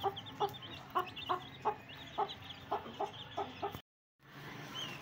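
Hens clucking in a steady run of short, sharp calls, about a dozen in a row, with a brief silent gap near the end.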